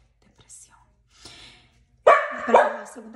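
A small female dog gives a couple of loud, sharp barks close by after some quiet rustling and faint sounds.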